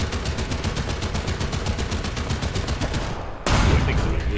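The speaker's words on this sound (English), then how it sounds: "I think somebody just shot at me." Rapid machine-gun fire rattles in a fast, even stream against a tank in War Thunder, then cuts off and gives way to a louder, heavier rumble.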